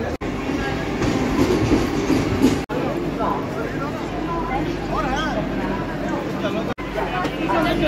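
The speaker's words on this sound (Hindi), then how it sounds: "train I" Train arriving at a station, a steady rolling rumble of railcars with clickety-clack and squealing wheel tones over it, heard up close under busy crowd chatter and voices.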